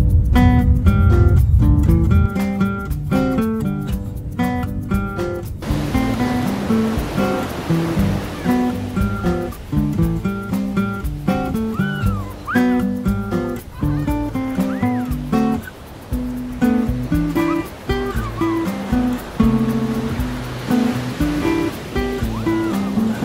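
Waves break and wash onto Zuma Beach in Malibu, a continuous loud surf roar swelling and easing in uneven surges.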